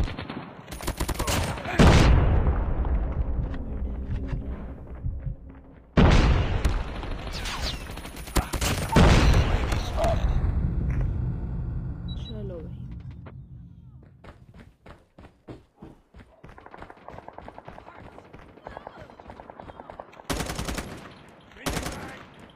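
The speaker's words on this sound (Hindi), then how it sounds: "बहुत करीब आगे गन मारते हैं भाई, बहुत करीब." Close gunfire in a Call of Duty match, with loud bursts of automatic fire and sharp shots in several clusters, mixed with thuds and game noise and someone talking between volleys.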